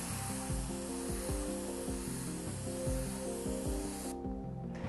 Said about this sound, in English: by widening the nozzle, which adjusts here, screwing in and out, you can adjust the paint flow and thus the size of the line that you get